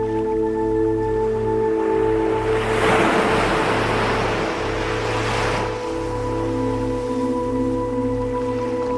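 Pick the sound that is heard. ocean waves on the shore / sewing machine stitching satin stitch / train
ocean waves on the shore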